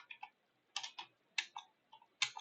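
Quiet clusters of computer keyboard keystrokes tap out in short irregular bursts with brief pauses between, close and soft.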